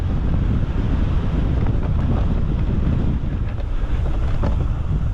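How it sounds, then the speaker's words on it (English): Strong headwind buffeting the microphone on an electric mountain bike ride in the Brecon Beacons, a steady loud roar without break. "Oh, look at the headwind."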